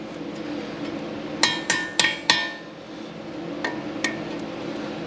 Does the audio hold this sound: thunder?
no